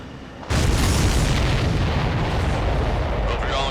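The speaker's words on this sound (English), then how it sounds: "Did you see that explosion?" Loud, sustained explosions from the Ace Combat 7 flight combat video game: a sudden heavy blast opens into a continuous rumbling roar of booms and bursts that stays dense and close for several seconds.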